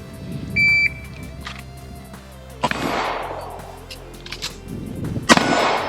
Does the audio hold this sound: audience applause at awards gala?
no